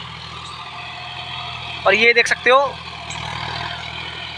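A John Deere 5105 40 HP tractor runs steadily pulling a cultivator, its engine drone continuous beneath a brief stretch of someone talking.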